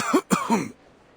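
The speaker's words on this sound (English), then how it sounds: "Sir, you seem to have quite a severe cough." A male game character in the 1999-set story coughs in a rough burst: two or three harsh, close coughs in quick succession, then quiet.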